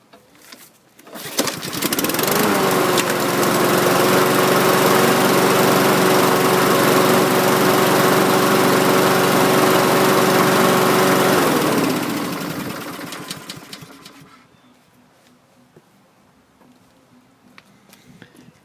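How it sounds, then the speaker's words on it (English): A Husky lawn mower, one of several non-running mowers, coughs and catches, then runs loud and steady at a constant engine pitch for about ten seconds before winding down and falling quiet after the safety brake cable binds. "Let's try starting the Husky."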